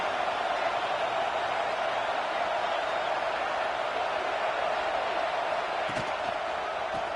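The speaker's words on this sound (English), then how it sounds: "This crowd, full throat, spreading the eardrums and letting them know it's going to be a long day." A loud college football stadium crowd at a Texas A&M at Georgia game roars steadily, a dense sustained wash of noise with no breaks, plus a couple of brief sharp knocks near the end.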